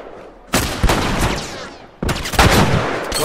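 Two heavy shotgun blasts boom out in The Last of Us, about a second and a half apart, each loud and close with a long rumbling tail.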